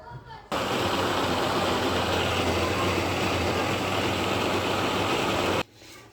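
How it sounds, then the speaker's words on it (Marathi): A mixer grinder blends oats batter with green chillies and water, starting abruptly and running as a loud, steady whirring roar for about five seconds before cutting off, with no talk. "थोडं पाणी टाकून आपण ह्याला बारीक करायचं।"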